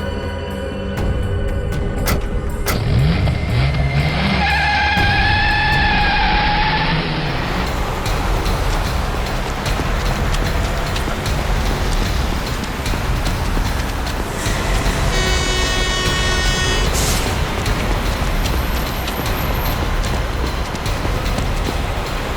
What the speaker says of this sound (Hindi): अबे गाड़ी भगा, तेज चला।